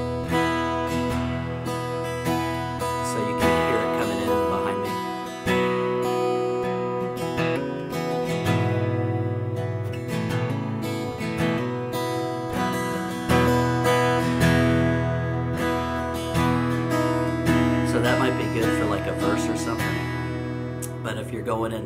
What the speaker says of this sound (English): I'm gonna do mostly strumming so you can see how the reverb actually doesn't get out of control